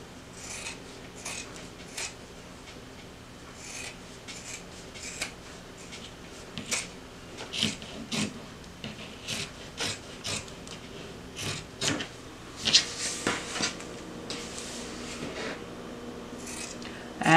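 Scissors trim the fabric lining of a clutch bag, giving a close series of soft, irregular snips and rustles that grow busier toward the end, with no talking.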